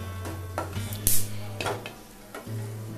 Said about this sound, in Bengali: এবার আমি ছোট বাটির এক বাটি চাল মগজ নিয়েছি, এটাও আমি ঘিয়ে ভেজে নেব।